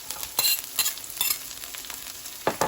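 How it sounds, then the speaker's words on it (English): Garlic and onion sautéing in a pan for a Filipino pakbet, a close sizzle broken by a few sharp scraping stirs in quick succession, with no voice. "let's saute this for a minute"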